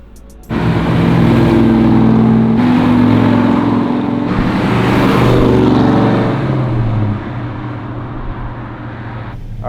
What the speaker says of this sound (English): here we go for a cruise in Dennis's '57 Chevy